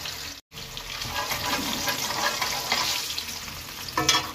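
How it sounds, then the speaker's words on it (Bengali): Onions frying in oil in a pan while cooking mutton curry with bottle gourd, a steady close sizzle with bursts of crackling and occasional stirring, alone with no talk. "পেঁয়াজটা একটু লাল লাল করে নেব"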